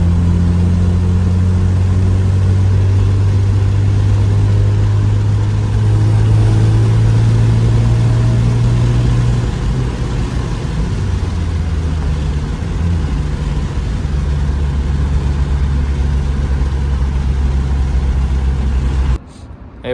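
A Hyundai Genesis Coupe engine drones loudly from inside the car during a quick pull, its tone holding steady then stepping down and settling, with road noise underneath until it cuts off abruptly at the end.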